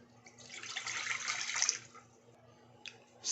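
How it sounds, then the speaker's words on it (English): Water poured from a cup into a saucepan over medium heat while making churros: a steady splashing pour that runs for about two seconds and trails off, followed by a couple of brief splashes. "add a cup of water"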